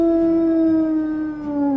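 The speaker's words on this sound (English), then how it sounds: "Now it's time to choose our wolf's distinctive howl." A wolf howl chosen in the video game WolfQuest, a single long sustained tone that slowly falls in pitch, clear and close, with no talking over it.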